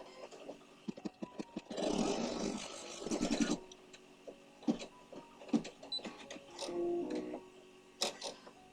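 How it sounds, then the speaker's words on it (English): An embroidery machine runs a placement stitch for an Easter basket appliqué, a short, moderately quiet burst of whirring stitching amid intermittent clicks and handling noises. "Now we're going to run a placement stitch for the Easter basket."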